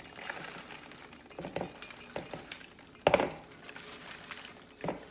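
Slightly burnt homemade stovetop popcorn is dumped slowly into a bowl, a faint scattered rustle with soft clattering bursts and one sharper rattle near the middle.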